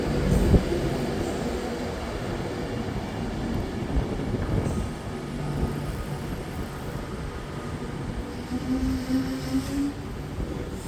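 An Avanti West Coast passenger train, the Manchester Piccadilly to London Euston service, rushes past at Nuneaton on the West Coast Main Line with a broad, continuous roar of wheels and rail noise, close by and sustained.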